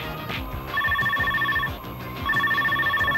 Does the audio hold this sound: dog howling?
no